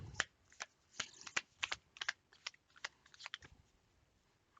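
A new, slightly sticky deck of tarot cards being shuffled up close, with a rapid irregular run of crisp card clicks and riffles that come and go, heard alone at low level.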